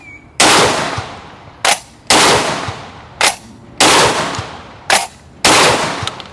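A Çelik Arms Buck Master Gen 2 M shotgun fires buckshot, five loud, close, sharp blasts in quick succession, each with a short ringing decay, the gaps between shots uneven.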